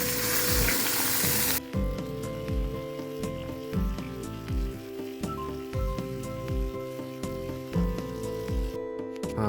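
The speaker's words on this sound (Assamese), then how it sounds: "তো এতিয়া আমি মাংসখিনি প্ৰথম ভাজি ল'ম।" Meat frying in oil in a pan: a loud burst of sizzling at first, then a steady sizzle broken by a regular rhythm of stirring scrapes, close up with no talk.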